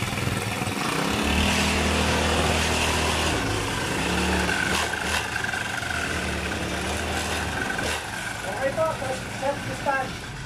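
A small pocketbike engine is pull-started and keeps running with a steady buzzing idle, loud and close, while people talk over it.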